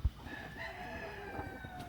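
Gamefowl chickens, a Bennett stag among them, crow and cluck softly in a farm yard, with drawn-out faint calls over steady background noise and a brief low thump at the start.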